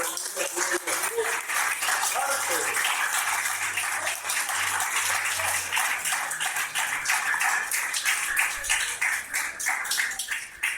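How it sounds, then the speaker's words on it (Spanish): Steady applause from a church congregation fills the room, a dense rustling patter of many clapping hands that keeps going without a break. "Denle un aplauso fuerte al Señor."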